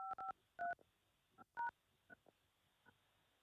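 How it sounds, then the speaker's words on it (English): Telephone keypad touch tones enter a six-digit PIN on a call-in studio phone line, several short clear dual-tone beeps in quick succession with fainter key presses between them. "Enter your 6-digit PIN number."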